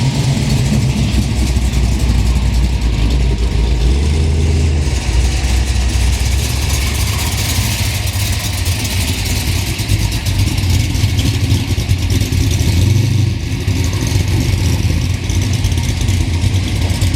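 A classic Toyota FJ engine idles loudly close by at an evening Mile End coffee and car meet, a steady low rumble with a slight rev partway through, and no talking over it.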